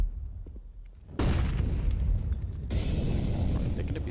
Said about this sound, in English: Double nade, not gonna kill anyone.